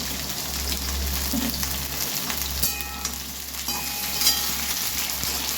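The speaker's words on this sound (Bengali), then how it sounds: "আলু ফুলকপি ভেজে নিচ্ছি ভালো করে।" Potatoes and cauliflower fry in mustard oil mixed with a little ghee, a steady close sizzle with occasional stirring clinks and a low hum underneath, no talk.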